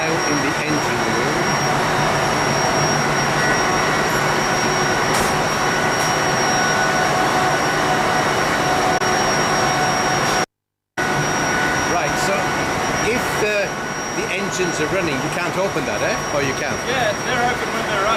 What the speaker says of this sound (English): Now in the engine room.